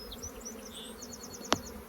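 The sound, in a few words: honey bees buzzing in an opened hive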